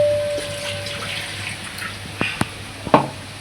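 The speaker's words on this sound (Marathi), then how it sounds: "पाणी घालूया एवढंच आणि एकदम छानसं मिक्स करून घेऊया." Water poured into a pan of leftover masala for stuffed bitter gourd, a short close splash and trickle followed by a few sharp drips and clinks, with light background hum.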